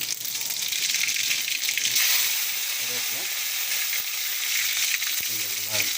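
Mustard seeds in hot oil, heard as a close, steady bright frying hiss with faint crackle and a few soft knocks from a spoon, with a brief voice near the end.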